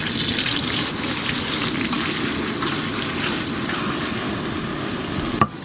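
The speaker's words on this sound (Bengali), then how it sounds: "বেরেস্তা ভেজে নেবো এবার" Onions frying for birista, a steady dense sizzle and bubbling of oil in the pan, loud and continuous without pause, with a brief sharp knock near the end.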